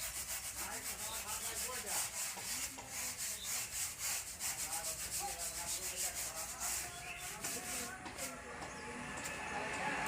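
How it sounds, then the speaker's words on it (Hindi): A writing board being wiped clean, with continuous close rubbing and scrubbing strokes that carry on throughout, a voice speaking now and then, and birds faintly audible in the background. "सबसे पहले चलिए इसको रब करते हैं"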